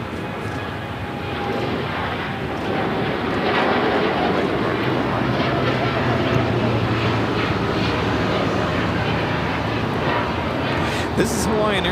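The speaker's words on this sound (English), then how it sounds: "This is Hawaiian Airlines Flight 3 taking off to Honolulu on the 787-9 Dreamliner." A Hawaiian Airlines Boeing 787-9 Dreamliner takes off from LAX for Honolulu, a broad, steady jet engine roar that swells slightly and holds throughout, heard at a distance.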